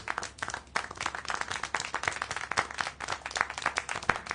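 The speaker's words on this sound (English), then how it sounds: "How can you clap?" Applause and clapping inside the video game Syberia, a steady patter of many hands at moderate level with no speech over it.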